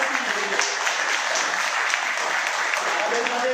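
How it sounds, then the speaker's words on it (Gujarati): Sustained, dense applause from an audience at a magnetic product demonstration in a hotel hall in Maninagar. The clapping stays steady and fairly loud for the whole stretch, with no break. "બાલાબેન માટે જોરદાર તાળીઓથી"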